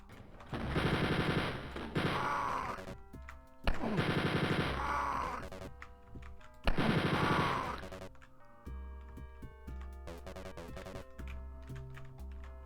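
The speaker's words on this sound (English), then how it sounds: "they acquire you so quickly and immediately start shooting" Rapid machine-gun bursts from enemies in the game Wolfenstein 3D, three long loud volleys of rattling fire separated by short pauses, followed by quieter game sounds and music.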